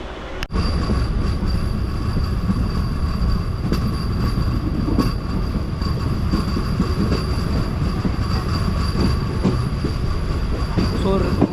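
An Indian MEMU express train departing a station toward Mayiladuthurai rumbles steadily close by, with a continuous metallic whine and faint wheel clatter running throughout, no voices.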